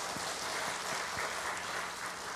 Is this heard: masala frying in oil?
no